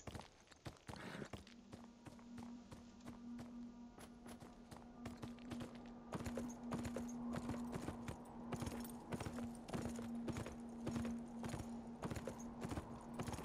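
Horse hooves clip-clop at a steady walking rhythm in the video game Beyond Two Souls, close and fairly clear over a low sustained hum, with a brief whinny-like sound near the start.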